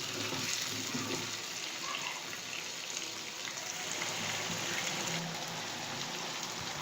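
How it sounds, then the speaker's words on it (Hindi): Potatoes and capsicum fry with spices in a pan for an Aloo Shimla Mirch sabzi, giving a soft, steady sizzle and crackle that continues evenly at moderate level with no talking. "अब इसको 5 मिनट तक हम भूनेंगे।"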